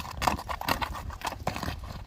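A strong wrestler's horse galloping and turning left and right, rapid hoofbeats thudding in uneven clusters, close and fairly loud.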